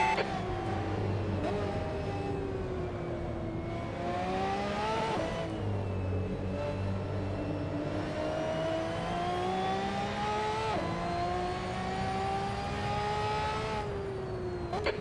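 Ferrari race car engines in the Assetto Corsa racing game, Ferrari Challenge at Mugello, a loud sustained engine note rising and falling through gear changes, with several cars droning close together.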